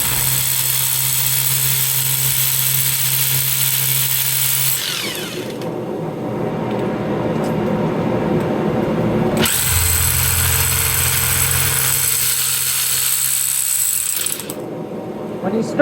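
A hammer drill bores into stone to make holes for feathers and wedges, giving a steady, loud mechanical rattle that runs in two long bursts with a brief pause between them, with no talk.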